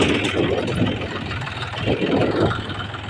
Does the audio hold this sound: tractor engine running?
yes